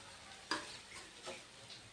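Vegetable biryani being stirred and mixed in a pot: faint soft scoops and a couple of spoon taps over a low background hiss, with no voices.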